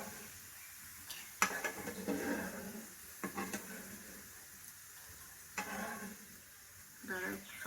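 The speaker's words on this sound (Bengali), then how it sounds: "এখানে নিম পাতাগুলো দিয়ে দেবো, অনেক তেল আছে, এই তেলেই ভাজা হয়ে যাবে।" Neem leaves fry in plenty of hot oil left over from frying potatoes in a home kitchen, giving a steady crackling sizzle with a few sharp clinks from stirring, while people talk intermittently over it.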